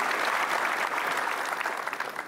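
A studio audience at a motivational talk show applauds, a dense, steady burst of clapping that tapers slightly toward the end, with no talk over it.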